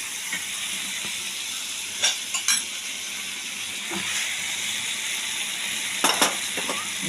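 Green jackfruit sizzles steadily in a pan with spices, a continuous soft frying hiss broken by a few sharp scraping clicks of stirring, close and alone without voices.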